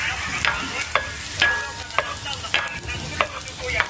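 Vegetables being sautéed in a frying pan for a sardine dish sizzle steadily up close while a utensil scrapes and stirs in repeated strokes, roughly twice a second, with no talking.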